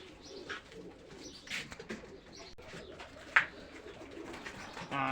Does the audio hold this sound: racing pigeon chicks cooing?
yes